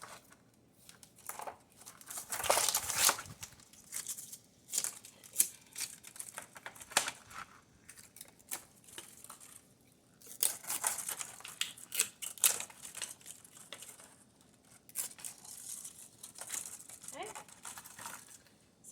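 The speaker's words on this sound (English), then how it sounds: "You may have to cut that little wrapper." A small plastic wrapper around a homemade concrete garden mushroom is cut and torn away, giving bursts of close crinkling, rustling and snipping in clusters, with quiet pauses between them.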